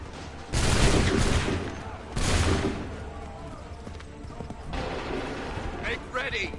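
Musket volleys crack out in the video game Assassin's Creed 3, two loud bursts of massed gunfire followed by scattered shots and a quieter battle din, with voices shouting over it.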